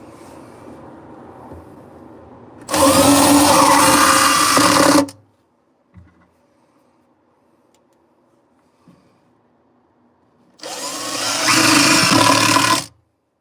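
Power drill driving screws during bathroom tile and backsplash work: two loud whirring runs of about two seconds each, separated by a quiet gap with faint handling noises.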